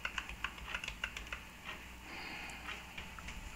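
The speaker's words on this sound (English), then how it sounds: "be pressing F7 as it reboots to get into the BIOS" Quick bursts of computer keyboard key presses as a Radxa X4 mini PC reboots into the BIOS, a cluster of sharp clicks at first, then lighter scattered taps over a steady low hum.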